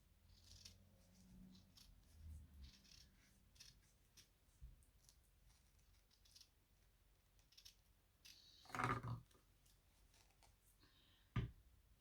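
Scissors snip through a tube for a recycled Easter basket craft, quiet close crisp cuts scattered across the clip with a couple of louder snips and handling noises.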